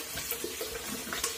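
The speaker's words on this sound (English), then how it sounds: "let me get a little water on my face here" Tap water runs into a sink while someone splashes it onto their face, a soft close trickle with small irregular splashes over a brief moment.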